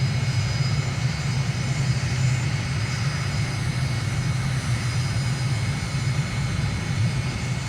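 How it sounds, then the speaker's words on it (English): Aircraft beginning its takeoff roll on a Dushanbe runway in Microsoft Flight Simulator, a loud, steady engine roar with a constant drone that fills the whole stretch without pause. "I've started takeoff roll right at the beginning of the runway"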